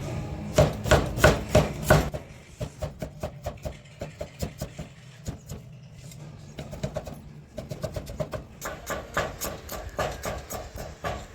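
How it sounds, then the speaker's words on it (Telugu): Knife chopping ginger on a board in a home kitchen while making chicken lollipops: a dense run of sharp, rhythmic taps up close, a brief pause, then further bursts of quick chops, with no talk. "మనం ముందుగా అల్లం కట్ చేసుకుందాం."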